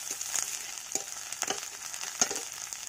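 A crushed paste of ginger, garlic and green chilli fries in a pan, a soft continuous sizzle punctuated by several sharp spits and pops at irregular intervals, close up and without voices.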